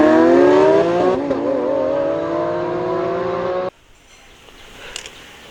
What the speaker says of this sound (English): Wow, nice high-speed racing car, guys.